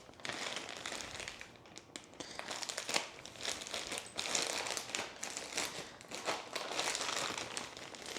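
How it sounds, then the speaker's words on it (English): Plastic hardware pack for a nightstand being cut and torn open, with continuous crinkling and rustling of the plastic over several seconds, close and fairly loud, with no talking. "So we're going to cut the hardware pack open."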